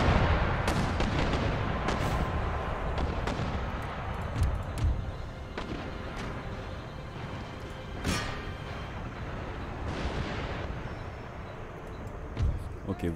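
Artillery fires explosive shells in the Total War: Empire strategy game, a rolling barrage of deep booms and sharp cracks layered under continuous battle noise while people talk throughout.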